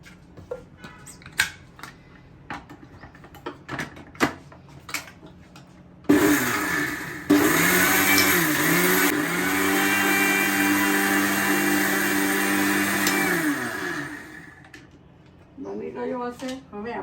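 An electric mixer grinder whirs loudly and steadily for about eight seconds as it grinds a coarse buttermilk spice powder, after scattered clicks and handling noises. Lid sounds and shuffling follow once it stops.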